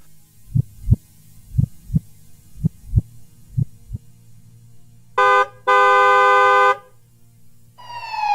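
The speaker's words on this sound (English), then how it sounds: "the car honked continuously" A car horn blares from behind on a road, first in a short blast, then a longer sustained honk, after a series of slow, deep thumping beats.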